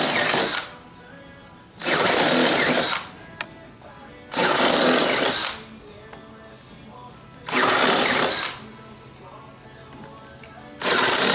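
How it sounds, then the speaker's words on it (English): A power drill boring a 9/16 hole through a composite cable railing cap, loud whirring bursts of about a second each repeating four times with quieter gaps between. "actually drilling 9/16 hole just through the composite cap"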